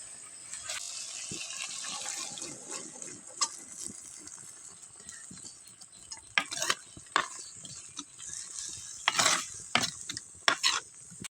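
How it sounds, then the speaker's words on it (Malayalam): Cooked green peas are tipped into a pan with curry leaves and stirred, giving a soft background sizzle broken by sharp scraping and clinking strokes of a spoon against the pan, growing busier toward the end. "അപ്പോൾ ഗ്രീൻ പീസ് ഞാൻ വേവിച്ച് വെച്ചതാണ് അതിലേക്ക് വെച്ചു"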